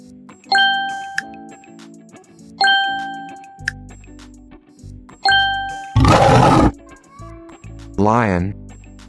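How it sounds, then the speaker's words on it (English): Cartoon lion roar in a children's animal puzzle game, a short loud burst among repeated chiming ding-dong jingles and bright game sound effects, followed by a wavering tone. "Lion."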